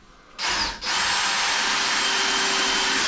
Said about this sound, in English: the only thing he's gonna do is gonna drill deeper